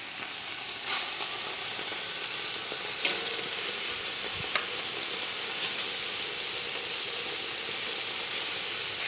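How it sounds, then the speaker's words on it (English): Pork tenderloin medallions searing in a hot pan, a steady loud sizzle and hiss throughout with occasional faint crackles and utensil taps, no voices. "we want it to get a quick sear, and then we want to let it finish in the sauce"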